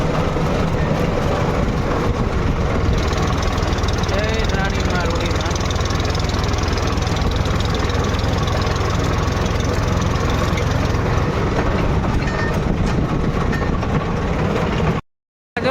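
A loaded tractor's engine drones steadily while driving on the road, loud and continuous with a low rumble and wind, then cuts off abruptly near the end; someone talks over it at times.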